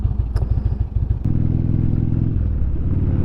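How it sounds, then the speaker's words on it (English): Motorcycle with new aftermarket exhaust mufflers, a low rumbling engine note that pulses unevenly at first, then settles into a steady, loud, sustained drone close by. "I wonder if you can hear my exhaust. These are new pipes that I put, well, exhaust mufflers that I put on"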